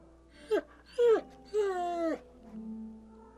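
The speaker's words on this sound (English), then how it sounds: "It looks up when you approach and whines in a low note, tag wagging slightly." Dog whining from the fantasy role-playing game Pillars of Eternity, an inn hound giving three rising and falling whimpers followed by a low moan, fairly close and alone.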